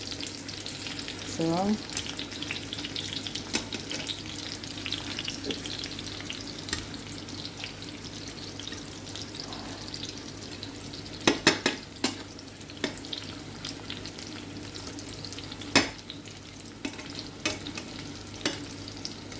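Kamoy slices frying in a pan, a steady crackling sizzle that runs throughout, with occasional sharp clinks of a utensil against the pan and a brief spoken word near the start.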